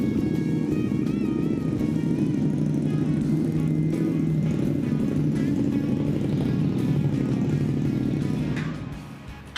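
A KTM Super Duke 1290 motorcycle runs loud and close as it is ridden indoors, giving a steady, rough, deep engine drone that holds throughout, then eases off right at the end.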